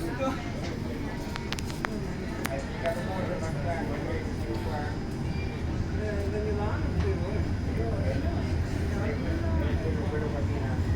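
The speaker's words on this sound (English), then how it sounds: "we're being overtaken by the high-speed train in the station itself" Steady rail rumble and rolling noise as a high-speed train overtakes inside Roma Termini station, heard from aboard another train, continuous and fairly distant under someone speaking.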